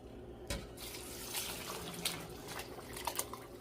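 Broth from a cooked ham bone is poured into a pot of vegetable soup, giving a faint, running trickle of liquid with a few small splashes and drips.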